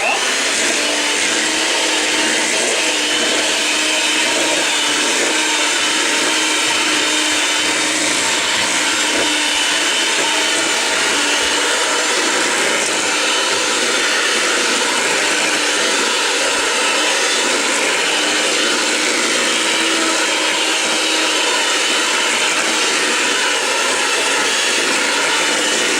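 An electric hand mixer whips mashed potatoes, a loud, steady, close whirring drone that holds without pause throughout, with no talking.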